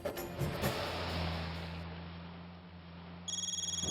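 A phone ringback tone purrs over a speakerphone, steady and moderately loud, followed by a short repeating electronic ring pattern.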